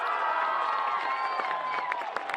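The Huntington North home crowd at a high school football game against New Haven cheers and shouts in a sustained roar with whistling and yelling mixed through it, slightly distant.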